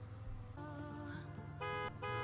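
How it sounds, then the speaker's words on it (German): Car horns honking in the racing game Forza Horizon 5, sustained tonal blasts with a longer toot near the start and a louder one toward the end, layered over a steady low engine-like hum with no talking. "ein bisschen Hupen, dann geht's los"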